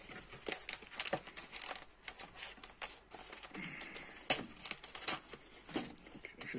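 A paper packet of batavia lettuce seeds is shaken and then snipped open with scissors, giving quiet close crinkling, rustling and a few sharp clicks in a near-silent setting.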